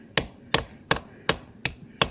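Six crisp, evenly paced hammer taps drive a metal sap spile into a maple tree trunk outdoors, each strike close and bright with a short ring, separated by brief quiet gaps.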